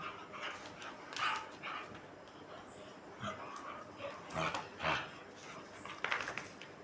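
An excited dog plays indoors, giving repeated soft whimpers, yips and small barks in irregular bursts, fairly quiet, with faint background voices.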